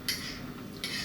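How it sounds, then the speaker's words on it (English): A utensil scrapes through spaghetti carbonara seasoned with pepper in a pan, giving two short bright metallic strokes separated by a quiet pause. "Let's give it a little stir"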